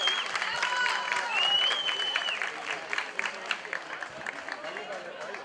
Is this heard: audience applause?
yes